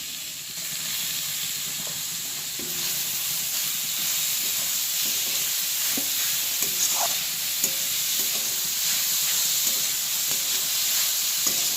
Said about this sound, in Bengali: দিয়ে দিচ্ছি গ্রেট করা গাজর আর লাল বিট